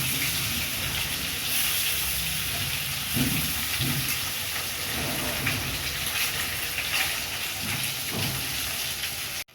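Duck eggs, cut into halves, fry in a hot pan with a continuous loud, steady sizzle and hiss, crackling throughout with occasional faint pops and clinks.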